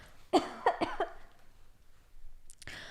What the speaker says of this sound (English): Oh my God, I'm about to cough.